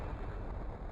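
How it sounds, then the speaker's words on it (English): An explosion strikes the lower hull of a ship in the video game Skies of Arcadia, heard as a dense, steady rumbling roar that fills the whole second with no talk. "It sounded like an explosion."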